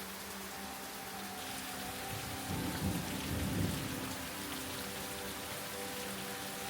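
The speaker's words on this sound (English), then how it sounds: "listening to the rain pour" Heavy rain pours down in Sidemen, Bali, in a steady, dense hiss, with a low rumble swelling briefly in the middle.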